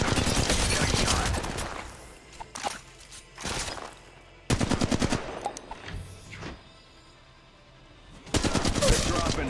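Video game gunfire plays on a Poco X3 Pro phone, with rapid automatic bursts that come and go in loud volleys and pauses between them.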